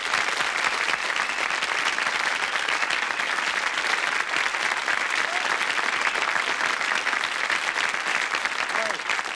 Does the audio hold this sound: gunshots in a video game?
no